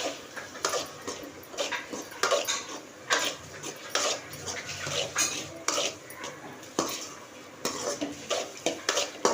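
Cooked, drained and cooled rice poured into a kadai-style cooking pan, with repeated scraping and clattering knocks of a utensil against the metal in irregular bursts.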